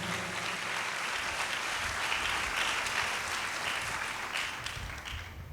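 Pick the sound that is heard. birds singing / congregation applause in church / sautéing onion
congregation applause in church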